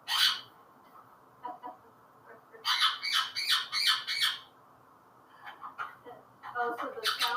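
A pet parrot and an Indian ringneck squawk indoors in loud, harsh bursts, with several rapid clustered calls separated by short quiet gaps.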